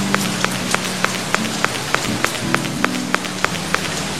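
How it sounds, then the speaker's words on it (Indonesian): Heavy rain pours steadily in a residential yard where laundry hangs on a clothesline, a dense, constant hiss broken by sharp, regularly spaced drips tapping close by. "Ya ampun, hujan deras banget."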